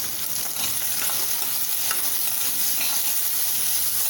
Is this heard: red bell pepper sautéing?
yes